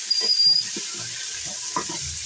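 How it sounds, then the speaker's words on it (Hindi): Beef frying in a pot of oil with already-fried bay leaves, a soft steady sizzle with faint stirring scrapes, close and moderate in level, no talking. "अब हम इसमें बीफ भून लेंगे।"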